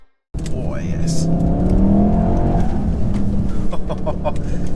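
A 2019 Mercedes C300 pulls away and accelerates, its engine note climbing steadily from close inside the cabin while a person talks over it.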